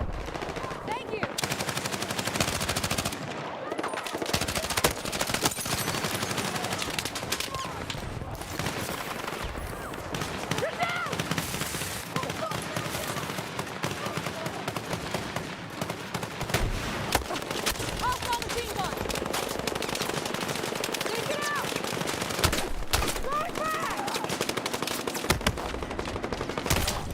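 Light machine gun fire in the video game Battlefield 6, aimed from a window: sustained rapid automatic bursts that run nearly the whole time, loud and dense, with brief voice chatter mixed in.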